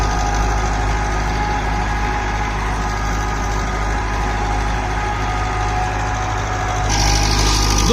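A 60 HP tractor engine runs steadily while driving a rotavator, a continuous loud diesel drone with a heavy low rumble and mechanical whine, constant throughout with no voices over it.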